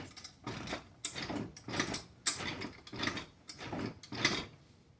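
A lip bender tool ratchets while bending metal on a Mustang, rhythmic clicking strokes repeating about every half second, close and fairly quiet with no talk.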